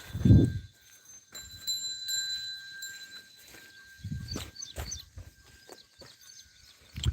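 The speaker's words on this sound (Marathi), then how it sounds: "पक्ष्यांचे आवाज तुम्हाला ऐकू येत असेल" Scattered bird chirps and calls sound faintly in the distance over a quiet outdoor background, with a few low thumps and rustles nearby.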